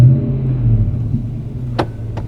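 A car engine idles with a deep, loud rumble at the Midlands International Car Show, settling into a steady low drone, with a couple of short, sharp bursts near the end.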